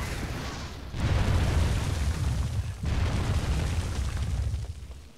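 Heavy rumbling blasts from a video game character shooting rocks, two long booming bursts with a brief dip between them, loud and close, with no talking.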